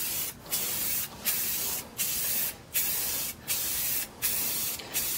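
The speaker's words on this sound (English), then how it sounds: "we're going to hit it with a coat of Rustoleum Gloss Black" Rustoleum Gloss Black spray paint hisses from a can onto a canvas in a continuous close spray, pulsing in short regular surges about every three quarters of a second.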